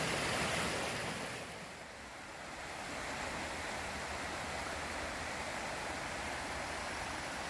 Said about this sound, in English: So look at the North Kill Creek from up above. Running pretty good.